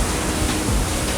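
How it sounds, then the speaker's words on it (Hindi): A monsoon waterfall in Jharkhand roars with a steady, dense rush of falling water, loud and close, with no pauses across the short stretch. "इतना सुंदर पानी देख के, इतना सुंदर वाटरफॉल देख के"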